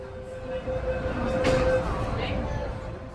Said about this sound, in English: today we are on board Hong Kong's MTR train decked out with Disney style designs